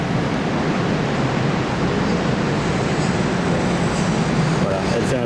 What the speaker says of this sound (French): Je laisse la pompe pomper